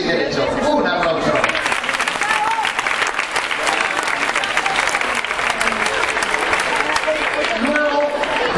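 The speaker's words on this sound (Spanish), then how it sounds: "Un aplauso." A crowd applauds at a Día de La Rioja celebration, dense, continuous clapping filling the whole stretch at fairly loud level, with some voices mixed in beneath it.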